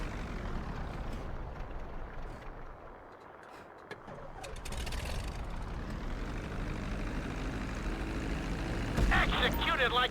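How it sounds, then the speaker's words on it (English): In GTA 5, an airplane comes in to land on a runway with a low, steady engine rumble that swells slightly over the span. It plays under quiet background sound, with a brief higher crackle near the end. "Start reducing the plane's altitude gradually so you're just above the runway as you approach."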